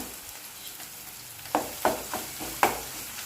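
Onions frying in oil as ginger-garlic paste is added for a ridge gourd and dried prawn curry, a steady low sizzle broken by several sharp stirring scrapes of a spoon against the pan in the second half.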